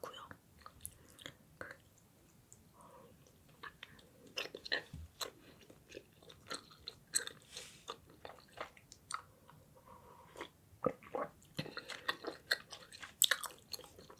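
Soft chewing of a honey-filled rice cake soaked in white milk, close and quiet, with repeated small bites, squishy mouth sounds and brief crunchy clicks in an irregular rhythm, no talking.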